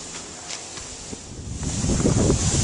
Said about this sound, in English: You can see the wind is really blowing up here